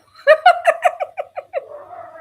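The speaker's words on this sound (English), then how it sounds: "I apologize if you hear dogs." Dog whimpering and whining nearby indoors, a rapid series of about eight high, pitched cries that fade into a thin drawn-out whine.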